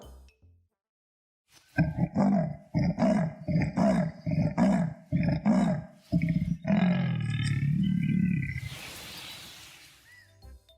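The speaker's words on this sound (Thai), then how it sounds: "และทำเสียงคำรามเวลาโกรธ" An angry leopard lets out a series of deep, rasping roars in a steady sawing rhythm, ending in a longer drawn-out growl, followed by a brief burst of hissing noise.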